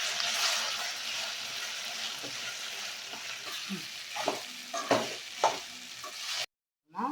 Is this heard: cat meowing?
no